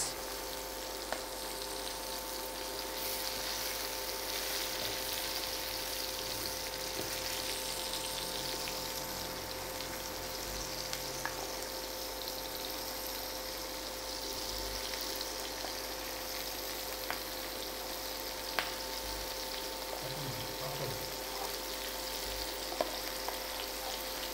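Marinated prawns fry steadily in a pan with a continuous loud sizzle and bubbling hiss, unbroken for the whole stretch, with a few faint clinks of stirring.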